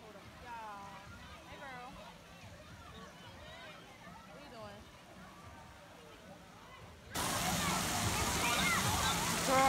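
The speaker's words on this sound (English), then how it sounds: "I'm over here, you know, in the water park." Water park ambience with steady rushing and sloshing water and scattered splashes, under a crowd's distant chatter and voices; the wash grows abruptly louder and brighter near the end.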